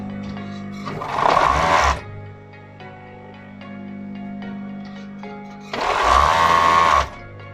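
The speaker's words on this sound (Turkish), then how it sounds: "Lastiğinin kenar dikiş kenarlarına, dikiş payına overlock çekeceğim." An overlock serger stitches the seam allowance of a stretched elastic waistband in two loud, whirring bursts of about a second each, separated by a quieter stretch of low machine hum.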